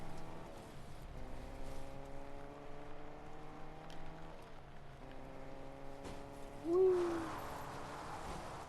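A car engine in a video game drones with shifting revs, mostly steady and moderately quiet, with a brief rising note near the end.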